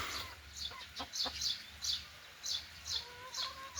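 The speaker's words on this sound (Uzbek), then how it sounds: "Tovuqlarimiz." A flock of chickens cluck at a steady, repeating pace on a farm, each short call clear and moderately close, with no talk over them.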